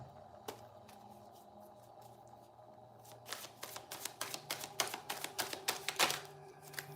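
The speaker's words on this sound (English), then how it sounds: "I don't know why I'm shuffling these cards." Playing cards being shuffled and riffled close by, quiet at first, then a rapid burst of crisp fluttering clicks.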